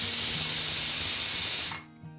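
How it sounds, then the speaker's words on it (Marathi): A pressure cooker boiling potatoes on a gas stove releases a loud, steady hiss of steam from its whistle, close and continuous, then cuts off abruptly into quiet. "कुकरच्या चार शिट्ट्या झाल्यानंतर त्याची वाफ संपूर्ण गेल्यावर"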